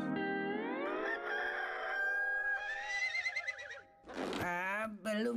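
A cartoon horse whinny in an Indonesian-dubbed SpongeBob SquarePants episode: a long, wavering, high neigh that trembles in pitch, then a short sharp burst near the end.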